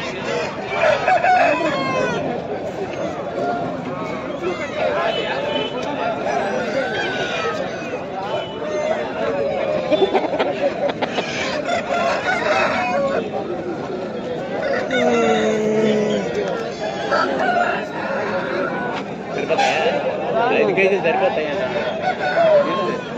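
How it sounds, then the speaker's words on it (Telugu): Roosters and hens at a crowded pet market, with crowing and clucking from several birds standing out against constant chatter and nearby talking. "చిన్న చిన్న పెట్టాల దగ్గర నుంచి పెద్ద పుంజుల దగ్గర కూడా ఉన్నాయి"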